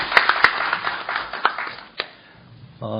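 A seminar audience at a Korean policy forum on government spending disclosure gives light, scattered applause to welcome a panel discussant. A few sharp claps come early, then the clapping thins out and fades within a couple of seconds.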